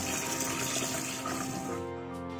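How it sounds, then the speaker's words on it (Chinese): Beans being rinsed in a basket under running water in a kitchen, a quiet steady rush of water with faint splashing that ends in a short tonal ringing. "准备小半篮子的麦豆清洗一下"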